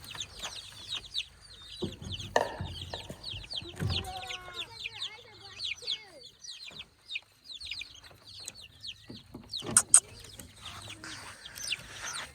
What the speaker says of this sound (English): this is our first batch of chickens that hatched